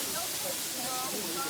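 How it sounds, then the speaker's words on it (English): Steady broadband rushing of the Longgong waterfall in Chiayi, Taiwan, heard close by as a continuous even roar with faint voices underneath. "It's a pretty cool waterfall, this one."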